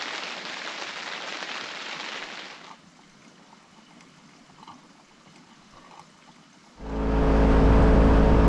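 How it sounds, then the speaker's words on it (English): Rain falls on a campsite tent in Utah's Uinta Mountains, a steady hiss of drops that fades to a quieter patter mid-clip, then surges into a loud, close, rumbling roar near the end. "Of course, it's raining again."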